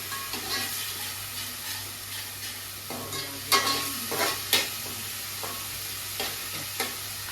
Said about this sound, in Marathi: जरा व्यवस्थित परतून घेऊया.